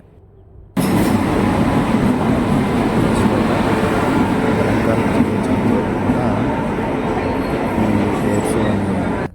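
A loud, steady rumble of a train fills Vijayawada railway station, broad and continuous after a quiet start, with faint voices underneath.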